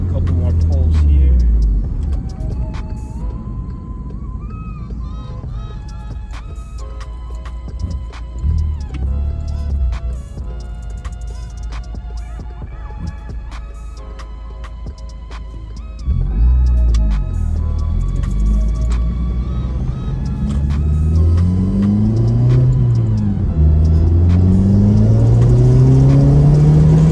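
A car with a CTS turbo downpipe accelerates hard through several pulls, the engine note climbing and dropping with gear changes and downshifts, heard from inside the car, loud and continuous, with someone talking at times.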